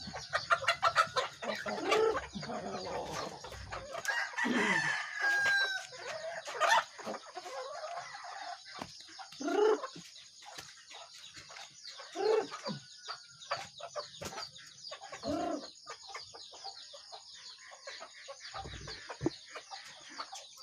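Several native chickens cluck and murmur nearby while being fed, with occasional louder calls over a steady hum of background noise; no one speaks.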